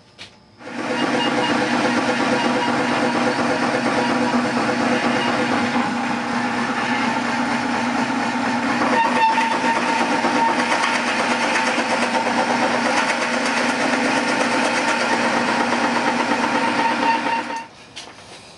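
A steady mechanical drone from a drill boring a 2-inch hole, 3/8 inch deep, into a base, running continuously for about sixteen seconds, starting and stopping cleanly, with a constant whirring hum and no talking.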